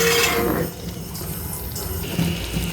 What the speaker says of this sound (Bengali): মশলাটা ভালোভাবে কষিয়ে যাওয়ার জন্য জলটা দেওয়া